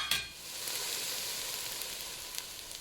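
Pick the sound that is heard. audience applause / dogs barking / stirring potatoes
stirring potatoes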